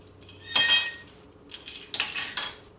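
An egg is added to sugar and butter in a bowl, with a few sharp clinks of glass and utensils in quick succession, close and clear, with no talking.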